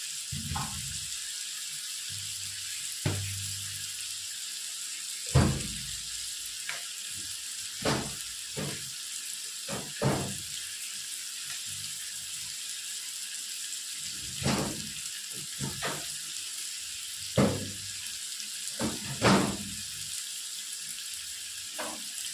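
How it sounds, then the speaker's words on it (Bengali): Chicken pieces frying in a pan, a quiet constant sizzle broken every few seconds by spoon-against-pan clanks and stirring scrapes. "এটাকে ভাজা ভাজা করে নেবো"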